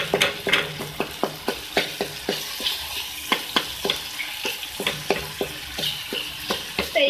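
Food being stirred around a frying pan, with a steady run of sharp spoon scrapes and clinks every half second or so over a constant sizzle, close and fairly loud, no voices.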